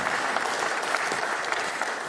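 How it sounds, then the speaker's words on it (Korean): Steady applause from an audience at a Korean political party gathering after local elections, a dense, even wash of clapping from a crowd lasting throughout. "안 계시지만 박수 한번 보내주시기 바랍니다."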